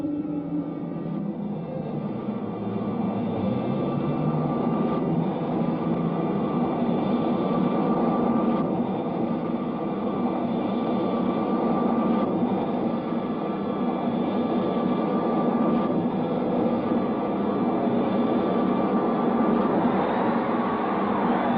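Cartoon spaceship entering a planet's atmosphere, a sustained roaring, rushing engine noise with a steady hiss, loud and continuous throughout without speech.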